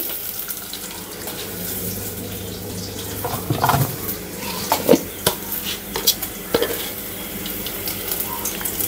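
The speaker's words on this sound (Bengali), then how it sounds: "পাঁচফোড়ন দিয়ে দিলাম" Panch phoron spices hit hot oil in a kadai already fried with onion and garlic, giving a steady hissing sizzle with sharp crackles and pops that grow busier toward the end.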